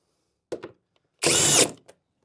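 A power tool fastens bolts on iron bed frame parts: a few short clicks, then a loud, sharp half-second whir of the driver, ending with a light knock.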